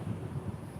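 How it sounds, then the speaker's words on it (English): Wind of about 12 to 13 mph gusts outdoors during a morning walk, buffeting the microphone as a steady low rumble that stays fairly quiet, with no talk. "There's like a 12 or 13 mile an hour wind gust"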